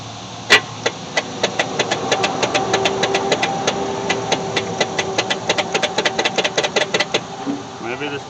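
The starter on a 1964 Chevy Impala SS, left sitting for 35 years, turns the engine over with a rapid, evenly spaced train of loud clicks and knocks for about seven seconds, then stops.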